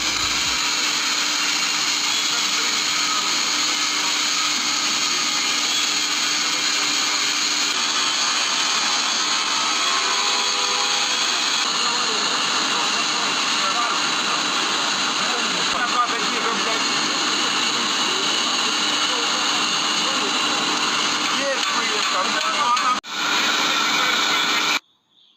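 Electroslag welding in progress, forming a shell seam in a single pass with copper shoes holding the molten pool, gives a steady, dense broadband hiss and hum that runs unbroken near the microphone before cutting off abruptly near the end.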